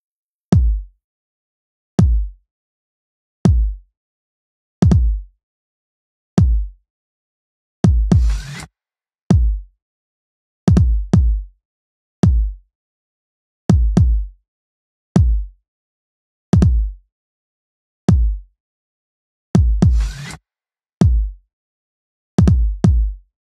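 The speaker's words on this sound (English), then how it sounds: "onto the kick drum, which sounds like this," Soloed electronic kick drum in a production, a deep punchy thump hitting every second or so, sometimes doubled, with a short noisy layer on a couple of hits, loud with silence between.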